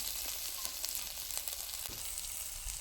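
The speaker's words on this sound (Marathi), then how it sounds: "एवढ्या तेलामध्ये ही मिरची भाजून निघायची व्यवस्थित" Green chilies roast in a small amount of oil over a wood-fired stove, a continuous soft crackling sizzle with scattered tiny pops and faint stirring, fairly quiet and steady throughout with no voices.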